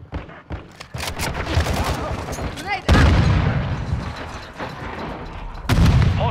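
Gunfire and heavy booms in the shooter game Modern Warfare 2, loud blasts at the start and again partway through, with continuous firing and battle noise between them and a voice speaking briefly.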